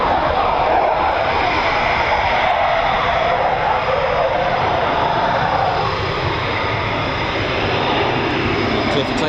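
A Eurofighter Typhoon jet at RAF Coningsby roars as a broad, loud, sustained rush that swells and eases slightly, with a voice talking over it.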